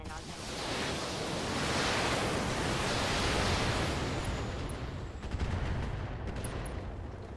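Mech weapons unloading in the BattleTech video game, a broad roaring wash of blasts and rumble that swells and holds for several seconds, loud and dense, with a few sharper cracks near the end.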